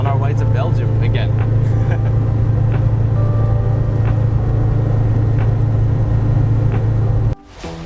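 Steady engine drone and road rumble inside a Saab 96 car cruising on the highway, continuous and loud until it cuts off near the end, with people talking over it.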